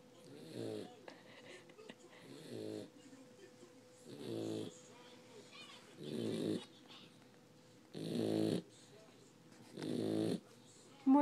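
A sleeping dog snores in slow, regular rasping breaths about every two seconds, heard close and fairly quiet.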